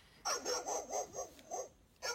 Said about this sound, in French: Leurs aboiements alertèrent tous les autres chiens de Londres.